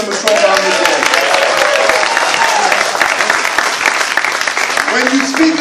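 Rally crowd in Riverdale applauds for Cuomo and Klein, a dense, steady wash of clapping lasting the whole stretch, with voices and chatter mixed in underneath.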